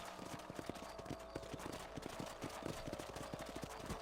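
Horse hoofbeats while riding in Red Dead Redemption, a quick, steady run of clip-clop steps on the ground, fairly soft and continuous throughout, with no talking.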